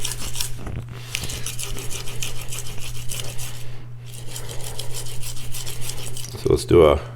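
Steady rhythmic rasping of a blade stroked back and forth across a natural Arkansas whetstone, close and continuous, with a low hum underneath and a brief clunk near the end.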